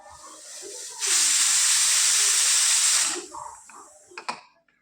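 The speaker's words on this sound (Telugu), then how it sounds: "కుక్కర్ మూత పెట్టి ఒక్క విజిల్స్ రానివ్వాలి" Pressure cooker on a stove loudly releasing steam while broad beans cook inside, a steady two-second hiss that cuts off abruptly, followed by faint kitchen clatter and a brief sharp clink.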